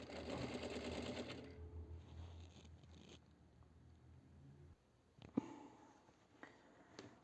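A sewing machine stitches a midi dress with shirring elastic, running steadily and close for a couple of seconds, then stopping, followed by faint handling noises and light clicks of fabric being moved.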